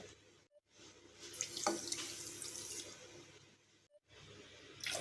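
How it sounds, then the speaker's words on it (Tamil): Water runs and splashes into a saucepan of sugar for a few seconds, fairly quiet and close, followed by a brief pause and another short pour. "இதுக்கு நாம் ரெண்டு கப் தண்ணி சேர்க்கணும்"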